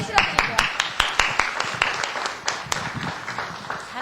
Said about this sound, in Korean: 큰 박수로 힘을 실어드릴게요.